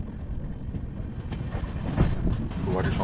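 The Puri–Kamakhya Express rolling into Guwahati in the early morning: a steady, broadband rumble of wheels and carriages with faint clicking, growing slightly louder toward the end, heard from close by.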